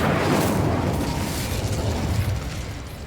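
Incendio fire spell cast in the Hogwarts Legacy video game: a loud, full-bodied burst of fiery roar that rumbles for about three seconds and slowly tapers off.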